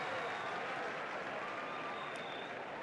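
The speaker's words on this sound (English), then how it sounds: "please, a round of applause for this brave canine performance" Crowd applause for a police dog demonstration at a formal event, a continuous even patter of many hands clapping, fairly soft and steady, with a brief whistle-like tone near the end.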